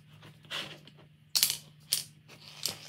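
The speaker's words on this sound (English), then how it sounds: "screw the front cover into place by lining up all of the screw holes" Small clicks, taps and a scrape while the front cover is screwed onto a CNC-cut wooden self-sorting piggy bank, a few sharp, close, quiet knocks spaced across a soft background hum.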